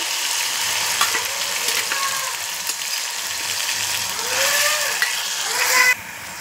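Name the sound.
ginger garlic chili paste frying in pan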